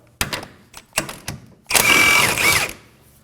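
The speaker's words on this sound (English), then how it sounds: "Using an 18mm socket, go ahead and take it off." Ratchet wrench with an 18mm socket loosening the lower link bolt of a control arm on a 2016-2020 Kia Sorento, several short close clicking bursts followed by a longer, louder run of rapid ratcheting.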